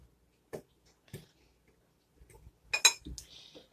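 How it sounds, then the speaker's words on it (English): A fork clinks against a bowl while stirring sausage breakfast pizza ingredients, giving a few brief, sparse metallic taps close by, with quiet gaps between them and a slightly busier cluster near the end. "grab a fork and stir these ingredients in so they're well mixed"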